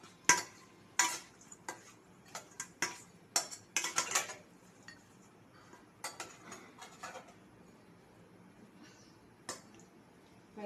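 A metal spatula scrapes and clinks against a bowl while mixing fish, a series of sharp irregular taps and scrapes, louder at first and then sparser and softer.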